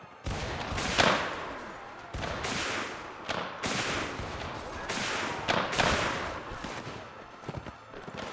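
Cap-and-ball rifle fire in Mount & Blade Warband during an American Civil War battle: a string of loud, sharp, echoing shots spaced a second or so apart, with faint battle noise and no talking.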